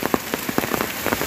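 Heavy monsoon rain in the Konkan region falls steadily, a dense broadband hiss of drops striking surfaces with scattered louder spatters, close and continuous with no voices.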